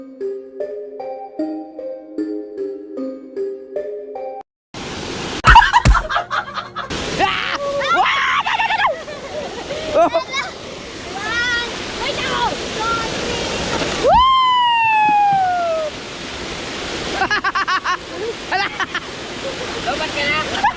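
Falling water from a waterfall rushes steadily and loudly after a short opening burst of music, with children's shrieks, laughter and voices scattered over the roar.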